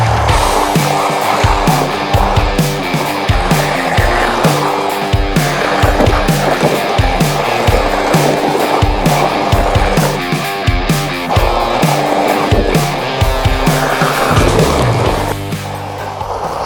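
Cheap SY1204 Pro RC rally car running hard on a 3S lithium-ion battery, a loud continuous high-pitched motor whine with rattling, gravelly tire noise and repeated surges in pitch as it speeds around close to the microphone.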